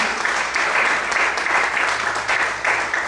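A church congregation claps steadily during a morning worship service, with dense, continuous applause that rises and falls slightly in waves.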